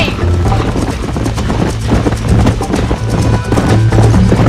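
Hooves of a galloping horse in the Western video game Red Dead Redemption pound in a steady, continuous clip-clop rhythm, loud and close, with a low engine-like drone and faint game sounds underneath.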